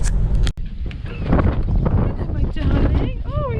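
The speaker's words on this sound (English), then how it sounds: "It's so windy" Strong gusty wind buffets the microphone at a scrap yard, a loud continuous rumbling roar with a brief clunk early on, while people talk over it throughout.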